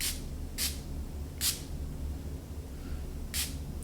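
Perfume misted from a frosted glass bottle, four short breathy sprays spaced apart, close and fairly loud over a low background hum.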